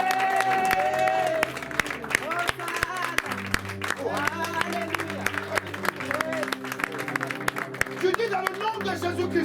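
A church congregation at a preaching service applauds and cheers for Jesus Christ, dense sustained clapping and crowd noise throughout, with a voice speaking loudly over it.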